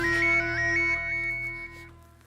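A phone ringtone plays as a call is placed to a police inspector, a bright repeating electronic melody sounding clearly and alone, then stopping near the end.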